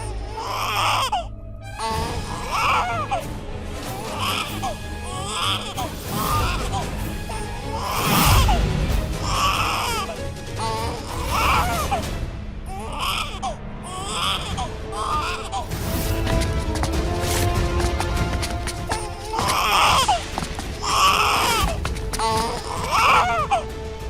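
A baby cries loudly in repeated wailing bursts, with short gasping breaks between cries, continuing throughout.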